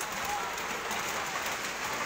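Steady rain falls at an outdoor diving course session, a dense even hiss of drops on surfaces that continues without a break.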